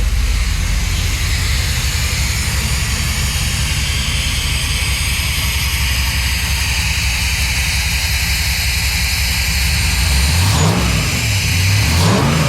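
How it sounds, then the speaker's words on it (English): A car's small-block Chevy 400 engine with EFI rumbles steadily at idle, then revs up twice near the end, the exhaust roaring loud and close. "I gotta give you a clip of the exhaust though."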